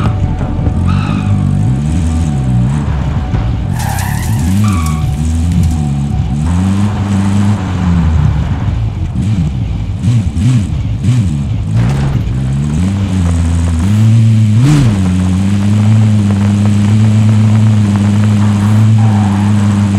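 A vehicle engine drones steadily throughout a Call of Duty Warzone match, its pitch rising and falling as the car accelerates and shifts, loud and continuous with brief game effects on top.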